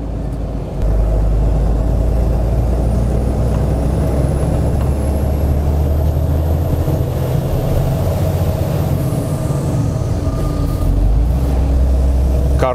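Ural Next truck tractor pulling a four-axle semitrailer uphill, its diesel engine held at raised revs in a loud, steady, continuous drone close by, with no talk over it.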